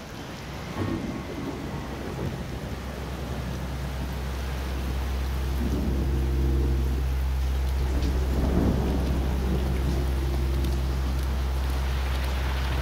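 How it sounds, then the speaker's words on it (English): Steady rain pours down while deep thunder rumbles and rolls, swelling louder midway, with no voices. "Looks like it's gonna rain again."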